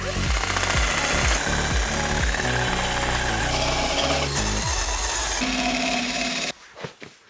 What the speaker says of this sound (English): I'm just going to use this paint stripping wheel and see if I can get this in here.